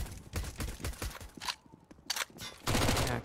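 Submachine gun fire in a Counter-Strike match, with rapid bursts of sharp, closely spaced shots, short pauses, then a final dense burst, loud and close.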